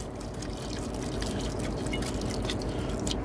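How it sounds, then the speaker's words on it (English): Chicken broth pours steadily into an Instant Pot for Cajun rice with shrimp, a continuous close liquid splash and trickle lasting the whole moment, no voices over it. "I'm just going to put a little bit of chicken broth, not a whole lot, but a little bit"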